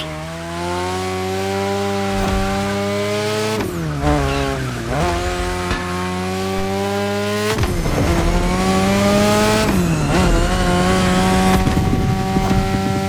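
A car drifting in The Crew Motorfest racing game roars with a loud, sustained engine whine that rises and dips as it revs through corners, with tire squeal mixed in and no talk.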